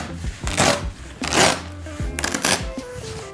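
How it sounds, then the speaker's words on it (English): Foam insert flap peeled back during installation in a DIY enclosure, giving three loud rough tearing and rustling bursts, each roughly half a second long, close to the mic with brief pauses between. "we're going to peel back our flap"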